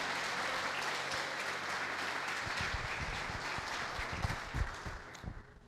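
A church congregation applauding during a celebration service, a dense sustained wash of many hands clapping at a moderate distance, thinning slightly toward the end with a few louder nearby claps.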